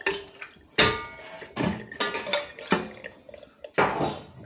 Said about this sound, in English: Pull the noodle, strain it, and put it in the cold water.